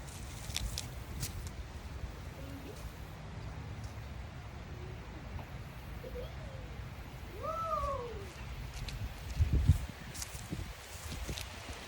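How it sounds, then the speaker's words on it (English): A cat outdoors at night gives a few faint meows and brief yowls from a little distance, over quiet nighttime ambience with soft rustling and a footstep-like thump. "oh, the cat's outside"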